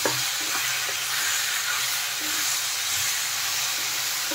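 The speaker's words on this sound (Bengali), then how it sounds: "এখন ভালোভাবে কিন্তু নেড়ে চেড়ে মশলাটা কষিয়ে নেব আমি" Masala with raw papaya frying and being stirred in a pan, a steady dense sizzle with soft scraping stir sounds running throughout, close and fairly loud, no talking.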